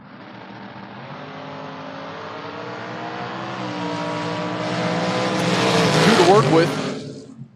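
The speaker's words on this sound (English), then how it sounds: "Pair of pick-em-up trucks." A pair of pickup trucks drag racing at a creek-side strip, engines roaring and building steadily in pitch and loudness as they launch and accelerate, peaking loud near the end before cutting off, with an announcer talking over the start.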